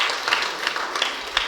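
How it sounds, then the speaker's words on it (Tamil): Scattered, thin applause from a church congregation at a flag-hoisting Mass, a brief patter of hand claps that sounds light and unenthusiastic, heard without speech. "கைதட்டினா இப்படியா தட்டுவாங்க?"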